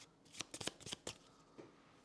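A deck of cards is shuffled during a tabletop board game, a quick burst of crisp riffling flutters followed by a softer final snap, close and quiet with no talking.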